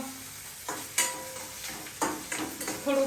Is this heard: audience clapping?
no